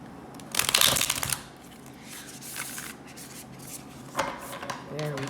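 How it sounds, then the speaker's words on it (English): Tarot cards are shuffled by hand, with a quick burst of riffling and rubbing card noise, then quieter shuffling and a second short flurry, all close up. "A little difficult to shuffle with my left hand."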